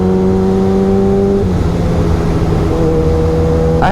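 A Yamaha R6 motorcycle engine in a video game drones steadily at high revs, loud and close, its pitch shifting slightly as the bike rides on.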